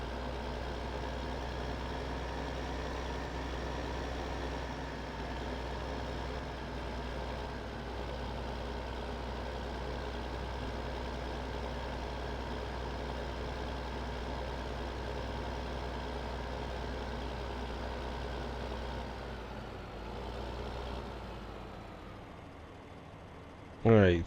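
A tractor in Farming Simulator 2015 runs with a steady, low droning engine hum that stays even for about twenty seconds, dips slightly, then ends in a short sharp click.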